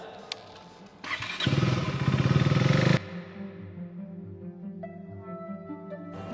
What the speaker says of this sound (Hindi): इन्होंने तो यही बाइक लगा दी